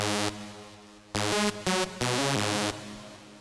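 A bright sawtooth synth lead remaking a well-known lead plays a short phrase of held and quick notes, full and loud, with a short fading tail.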